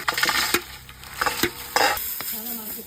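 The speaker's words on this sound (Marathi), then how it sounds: "थोडं तेल टाकून मिरची भाजून घेऊया." Red chillies roasting in a little oil in a pan, a close crackling sizzle with repeated scraping and clinking as they are stirred.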